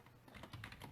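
A short burst of quick, faint keystrokes on a computer keyboard while editing a bike course title for indoor training, the clicks soft and close with no voices.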